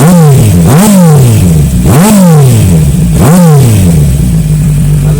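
A 2018 Kawasaki Z900 SE with a 3-inch carbon slip-on exhaust revs hard three times, each blip rising and falling back to a loud, rumbling idle, recorded up close with no talking.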